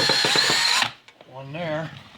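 A power drill spins out a Phillips head screw from a dishwasher kick plate, a short loud whirring burst that stops abruptly, followed by someone speaking briefly.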